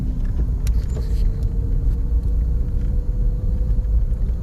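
A car creeps slowly along a snowy road during a snow storm, its engine and tyres giving a steady low rumble from inside the cabin, with faint rattles and no talk.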